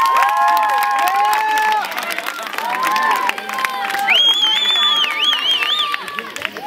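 A live audience cheers, whoops and applauds loudly and continuously, with shouting voices rising over the clapping throughout.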